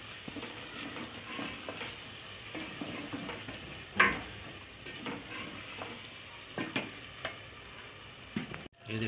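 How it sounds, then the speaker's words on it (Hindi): Tomatoes cook down in fried masala for a potato-spinach curry, a soft continuous sizzle with scattered stirring scrapes and ticks, one sharper clink near the middle, fairly quiet and close with no talking. "इसमें मसाला अच्छे से भून लिया है और इसमें टमाटर ऐड कर रहे हैं"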